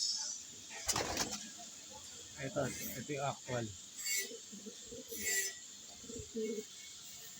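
A pigeon gives soft, low coos in short repeated phrases while being handled, with a person speaking nearby and faint rustling.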